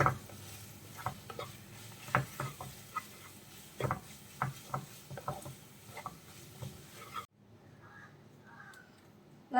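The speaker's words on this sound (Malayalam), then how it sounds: "സോസുകൾ ചേർത്ത ശേഷം നമുക്ക് നന്നായിട്ടൊന്ന് മിക്സ് ചെയ്ത് കൊടുക്കാം" Red and green chilli sauces being stirred into veg noodles frying in a pan, with irregular scraping and tapping strokes over a soft sizzle before the sound drops away near the end.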